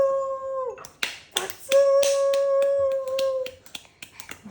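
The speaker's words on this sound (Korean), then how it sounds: "짝짝짝 소리 난다" An eleven-month-old baby clapping during a weaning-food meal with mom: a handful of soft, uneven hand claps at close range, between sustained sung or hummed tones from an adult voice.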